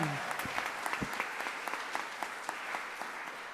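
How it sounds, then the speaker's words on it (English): Audience applause fills a Unitarian church after a labor chorus performance, a steady wash of clapping with scattered sharper claps standing out, moderately distant and fairly quiet, with a brief voice at the very start. "Give them a round of applause."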